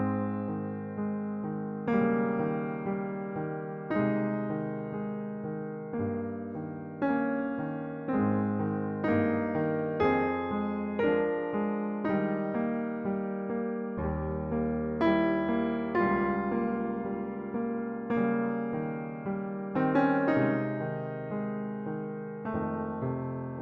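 A piano played with crossed hands, the top and bottom notes brought forward over softened inner notes, in a steady flowing run of chords, close and clear with no talking.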